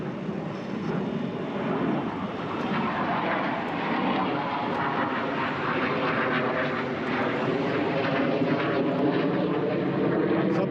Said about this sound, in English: Plane flew right over me.